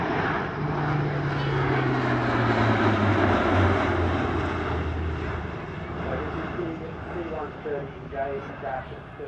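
An RAAF C-130J Hercules turboprop transport drones past at the Shellharbour airshow, a loud propeller hum with a falling pitch as it passes, easing slightly toward the end, with a voice under the engine noise.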